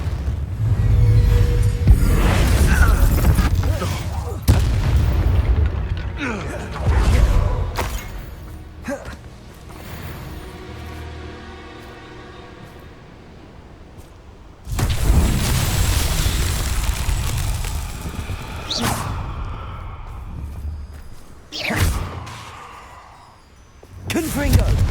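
Confringo explosion spells in Hogwarts Legacy heard as several booming blasts and bursts over game sound effects, with a voice speaking at times between them.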